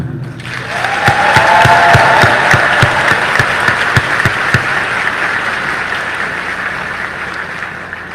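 Audience applause at a formal address, a sustained, loud burst of many people clapping that swells early and then holds steadily, with a few sharp individual claps standing out near the front.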